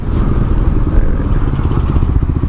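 Yamaha R25 two-cylinder 250 cc motorcycle, a loud, close, throbbing engine idle with rapid pulsing beats and a slight clatter, no talk.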